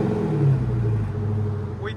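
Dodge Challenger 392 Scat Pack with its 6.4L HEMI V8 and an aftermarket exhaust, new with low mileage, idling with a deep steady rumble and a slight rev swell, heard close up while people talk nearby.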